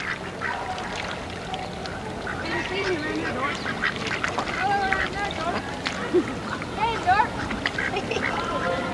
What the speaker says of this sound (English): Oh, these are great ducks. The ducks are over here.